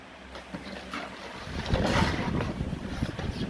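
A Union anti-mosquito stand fan blowing air close to the microphone, a rushing, buffeting wind noise that swells in strength midway and stays steady after.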